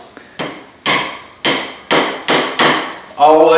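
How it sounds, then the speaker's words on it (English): Seven hard hammer blows ring out at a steady pace, each a loud close metallic strike that quickly dies away, with no talking heard. "We're hammering."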